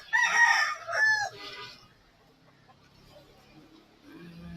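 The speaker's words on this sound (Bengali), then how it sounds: "তো হচ্ছে হোয়াইট কালার মোরগ।" A white rooster crows loudly at a busy poultry market selling roosters, hens and ducks, one strong crow near the microphone followed by quieter market murmur and low voices.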